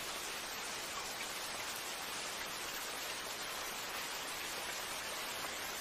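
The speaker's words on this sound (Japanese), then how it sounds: "雨を聞いてるんじゃないかしら。" Steady rain falling in an anime scene, a continuous even wash of broadband patter with no pauses, moderately loud and uninterrupted throughout, with no voices.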